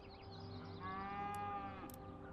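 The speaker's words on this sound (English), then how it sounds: "Oh, there's a cow." A cow in the video game Hozy gives one drawn-out moo lasting about a second, clear and up close over a soft, steady game background, with two brief high chimes near the end.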